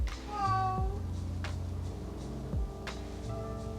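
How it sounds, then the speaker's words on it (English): Recorded cat meowing played back through a HomePod Mini smart speaker, a few drawn-out meows with rising and falling pitch sounding close and fairly loud over faint background music. "A cat sounds like this."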